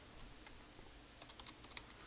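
An SQL update query typed on a computer keyboard: a short run of faint, irregular key clicks, close but quiet, with no talking.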